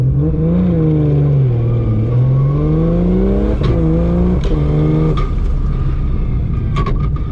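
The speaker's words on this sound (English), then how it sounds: "I think that backfire was just from hitting limiter" A Ford Barra-engined GT350 car with a PPG sequential gearbox holds at high revs, droning loudly, then several sharp pops and cracks burst out as it bounces off the limiter.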